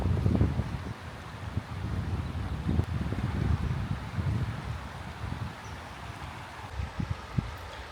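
Wind gusting steadily beside a river in the Attappadi area, heard from under a tree, with a continuous low rumble and rustle and occasional soft thumps, no voices.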